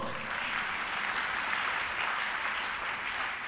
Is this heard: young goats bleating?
no